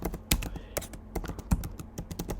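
Close, rapid keystrokes on a computer keyboard arrive in irregular bursts of clicks, with a few heavier presses such as the enter key standing out.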